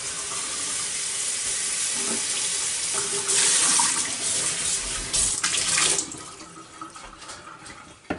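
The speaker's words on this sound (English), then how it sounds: "Rinse my bowl out." A bowl is rinsed under a running kitchen tap. A steady, close rush of water splashes and shifts in tone as the bowl moves under the stream, easing off near the end.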